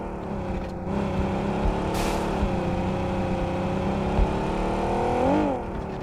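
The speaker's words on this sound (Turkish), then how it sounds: "Arabamız burada. Alalım hemen çıkalım." A car engine in the video game PUBG Mobile hums steadily at close range, rising in pitch as it accelerates and revving briefly near the end, with no talk over it.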